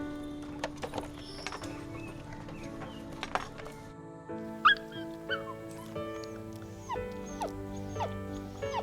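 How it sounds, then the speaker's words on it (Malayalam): A puppy in a Malayalam feel-good film scene, whimpering and yipping faintly in short high cries over a quiet background with some soft music-like tones and light voices. "ചേച്ചി പട്ടിക്കുഞ്ഞ്"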